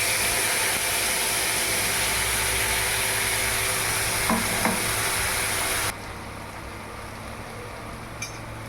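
A spice paste containing ground ginger hits hot oil, giving a loud, dense, steady sizzle that suddenly drops to a quieter hiss partway through, with a couple of faint utensil taps.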